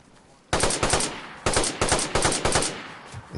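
An automatic gun firing in DayZ, loud and close, opening with a sudden rapid burst, then a short pause and several more quick bursts of shots in close succession.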